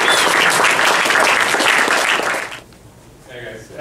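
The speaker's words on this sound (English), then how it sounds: "I have some round of applause for everybody pitch tonight" An audience at a university start-up pitch challenge claps for the pitches, loud dense applause that holds for about two and a half seconds and then drops away quickly into a quiet room.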